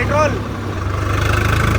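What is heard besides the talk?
Swaraj 855 tractor engine running at high RPM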